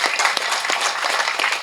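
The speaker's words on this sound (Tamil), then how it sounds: "அந்த மாதிரி ஒரு வசனம் வச்சதுக்கு ஒரு கைத்தட்டல் கொடுக்கலாமே" Audience clapping at a silambam press meet, a steady patter of many hands that runs evenly through the short stretch at moderate loudness with no voices.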